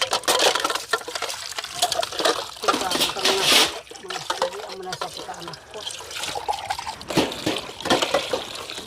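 Water splashes and trickles as something is rinsed by hand at a family's home deep in the mountains, a busy, fairly loud wash of pouring and dribbling with voices talking over it.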